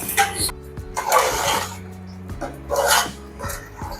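Chicken 65 dum biryani is stirred in a large cooking pot, with scraping and clanking strokes of a spoon against metal repeating close by over a steady low hum.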